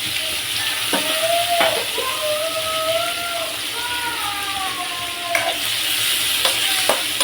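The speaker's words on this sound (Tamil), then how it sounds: "வெங்காயம் ரெண்டு தக்காளி போட்டு வதக்கணும்" Onions and tomatoes frying in a pan give a steady close sizzle with occasional stirring knocks, while a faint whistling tone drifts in the background.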